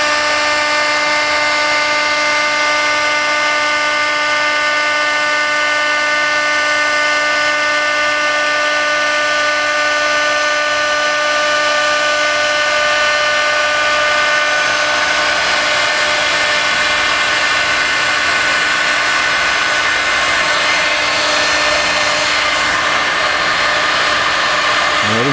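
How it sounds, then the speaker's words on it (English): Edge Finisher Company EF-200 edge finishing machine, a unit that handles stacks or single pieces up to 3/4 inch thick, running with a steady, loud, whining motor drone and strong tonal hum that holds unbroken throughout, with no speech. "The machine will automatically adjust to any size up to 3/4 inch thick, whether it's a stack or a single piece."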